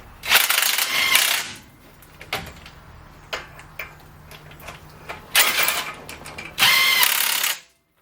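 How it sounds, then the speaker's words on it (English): An impact gun works on the caliper bracket of a 2006 Ford F-350's right front brake, giving two loud bursts of rattling hammering separated by quieter clicks and clanks, with no one talking. "Always after using the impact gun,"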